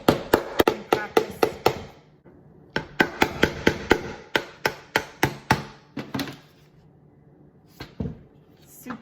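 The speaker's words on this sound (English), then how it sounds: "the children will just take the little golf tee and a hammer and practice." A hammer taps little golf tees into a base as a toddler activity: a loud run of about nine sharp, evenly spaced strikes, a brief pause, another steady run, then a few slower taps. No talking.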